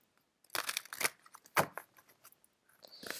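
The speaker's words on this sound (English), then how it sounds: "Let me shuffle real quick." Tarot cards are shuffled close up in short bursts of crisp riffling and flicking, separated by brief pauses, with no talking.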